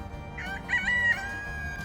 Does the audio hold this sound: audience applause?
no